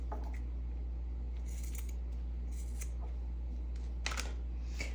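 Snips of scissors cutting through antique wallpaper, a few short crisp bursts spread across the stretch, faint and close over a steady low hum with no talk.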